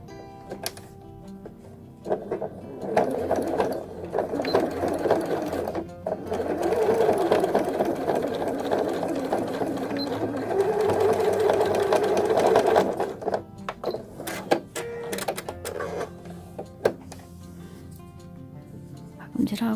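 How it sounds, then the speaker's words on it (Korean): Sewing machine running in bursts while stitching a seam on a fabric string eco bag, a steady mechanical whir with a busy rhythmic ticking, close and fairly loud, with pauses and small handling clicks between runs. "이 박음질을 해줍니다"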